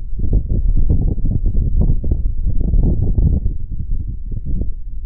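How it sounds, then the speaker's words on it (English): Strong wind blasting across the summit of Carn Nan Gabhar, a heavy, continuous low roar buffeting the microphone up close, loud and unbroken throughout. "Yeah, I knew I spoke too soon about the wind. Listen to this."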